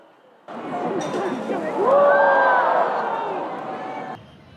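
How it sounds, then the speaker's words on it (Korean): A large crowd at the Haman Nakhwa fire festival in South Korea roars and cheers as falling fire sparks burst, voices blending into a loud festive clamor that rises and then fades. "불꽃이 터지면서 낙화할 때마다 관람객들의 환호성이 터져 나옵니다."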